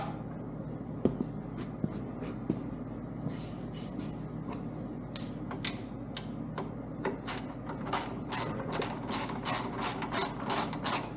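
Loosening a small bolt beside the radiator cap on a Honda Goldwing, drained of coolant: a series of quick ratchet clicks and light metallic taps, close and fairly quiet, repeating in short bursts over a steady background hum.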